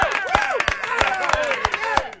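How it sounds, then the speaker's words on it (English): Applause sound effect on a talk show: a short burst of brisk, evenly spaced claps, fairly close and moderately loud, over a low musical tone, with no words spoken. "I had to give you that applause for a reason."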